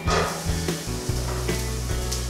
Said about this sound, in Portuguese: Agora é só fazer o trabalho de refogar a cebola.